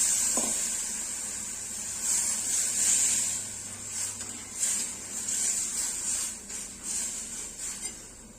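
A bowl of water goes into a cooking amti with peanut powder and potatoes, setting off a bright, steady hiss and sizzle in the pan with soft stirring and splashing noises rising and falling.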